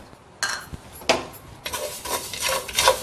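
Fenugreek seeds being roasted in a clay pot over a fire rattle and scrape as they are stirred, with irregular clattering strokes and bursts of dry rustling up close.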